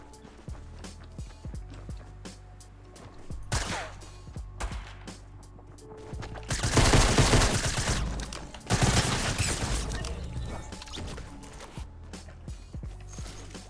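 Rapid bursts of gunfire in a Fortnite Battle Royale match, sustained automatic fire swelling loud in two heavy stretches, with mechanical weapon clicks and handling sounds between volleys.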